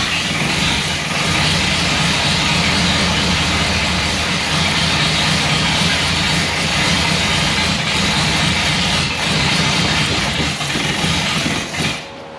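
A 1960 Buick engine, newly brought back to life after carburetor work, runs with a loud, steady roar that holds evenly and close up, then drops off sharply right at the end.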